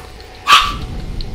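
A dog named Loki gives a single sharp bark, close and fairly loud, against a quiet room background.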